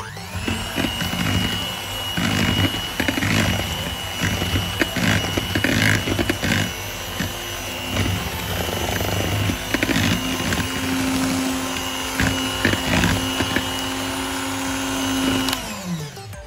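Electric hand mixer beating vanilla pound cake batter, a steady motor whine running loud and continuous throughout with slight shifts in pitch as the beaters work the bowl.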